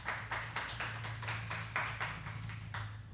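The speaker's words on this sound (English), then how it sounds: "Let's give a hand clap for that." An audience gives a round of hand claps, a quick rhythmic patter of about a dozen distinct claps, fairly faint and steady, with a low hum underneath.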